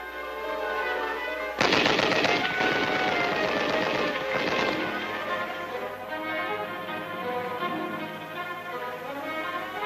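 Machine gun fire during infantry weapons training on Taiwan, a sudden loud sustained rattle of rapid shots for a few seconds, then a fading ringing tail under a faint background tone; no talk.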